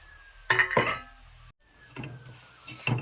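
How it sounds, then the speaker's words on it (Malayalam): Metal spoon scrapes and clinks against a cooking pan as roasted spice powder is stirred in, a few distinct bursts of scraping close up with quiet pauses between them. "ഇതിനകത്തോട്ട് നമ്മൾ വറുത്ത് വെച്ചേക്കുന്ന പൊടിയെല്ലാം കൂടി ഒന്ന് ഇട്ട് ഇളക്കി സെറ്റാക്കാൻ പോവാണ്"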